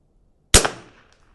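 A single sharp report from a Vudoo V22S .22LR rifle firing at a 100-yard target, loud and close, with a brief decaying tail and no talk.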